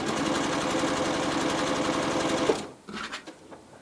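Sewing machine stitching quarter-inch seams on nine-patch quilt pieces, running in a steady loud continuous whir for about two and a half seconds, then stopping, followed by faint handling clicks.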